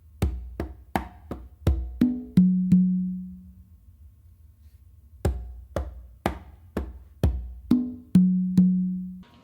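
A songo rhythm is played on three congas, including open tones on the tumba: crisp slaps and taps fall in a quick repeating pattern, with ringing low open tones sustaining in each phrase, close and clear with no talk.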